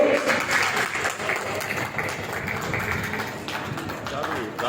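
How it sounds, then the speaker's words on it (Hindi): Sustained applause from a crowd welcoming guests at a ceremony in Ujjain, a steady wash of many hands clapping with talk mixed in. "जरा दिल से जोरदार तालियां दोस्तों"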